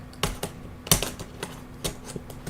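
Computer keyboard keys clack in irregular bursts of taps, close and moderately loud, with quieter pauses between presses and no talking.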